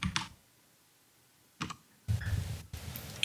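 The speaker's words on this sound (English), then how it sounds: "Keyboard sounds." Computer keyboard keys clatter in short bursts of typing and clicking: a quick flurry, a pause, another brief burst, then a longer run of rapid tapping, fairly close and with no talking.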